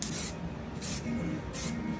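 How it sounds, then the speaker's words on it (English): Three short hissing bursts from a spray can of adhesive, evenly spaced, close and fairly quiet, during a 1957 Volkswagen Beetle headliner install. "I'm just gonna spray this nicely."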